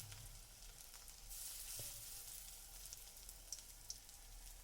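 Lentil and cauliflower fritters fry in hot oil with a soft, steady sizzle and bubbling, fairly faint and close, broken by a couple of small clicks.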